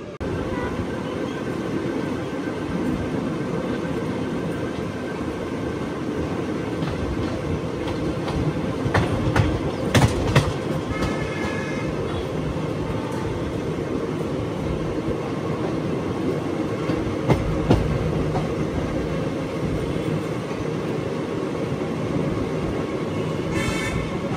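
The Andaman Express (train 16031) runs along the rails in a steady, continuous rumble with a few sharp clicks and wheel squeals around the midpoint, heard from on board without talk.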